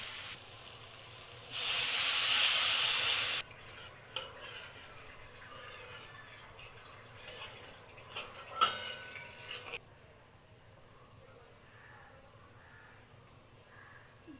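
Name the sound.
fish curry gravy boiling after adding water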